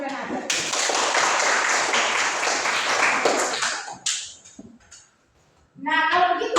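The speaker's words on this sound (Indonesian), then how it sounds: "Benar sekali, tepuk tangan untuk Renata." Classroom applause for a student during a chemistry lesson, a dense burst of many hands clapping for about four seconds, then fading, followed by a short gap and a voice speaking.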